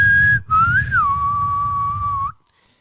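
A long, loud, clear whistle during a ghost hunt, one sustained tone that starts, breaks for an instant, then glides slightly downward and holds steady for about two seconds over a low rumbling background before stopping abruptly.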